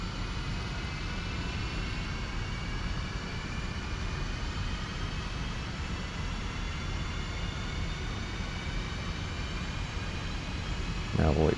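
An F-5E Tiger II's right jet engine spools up during startup in DCS World, a steady whining roar with rising tonal whine lines that holds for about eleven seconds, ending in a brief louder burst.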